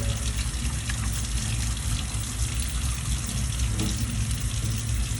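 Water runs steadily onto a paraben- and sulfate-free hair product to work it into a lather, giving a continuous close gushing splash like a running tap with no pauses and no talking.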